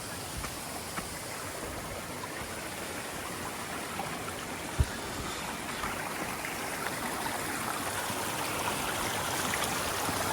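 A creek flows with a continuous rushing babble, steady and close, with one brief knock partway through.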